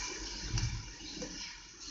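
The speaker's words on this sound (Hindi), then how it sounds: "ये एक कप पानी का डाल दिया आपने" A cup of water poured into a chicken dish in a cooking pan, a brief steady splashing pour heard close and moderately loud.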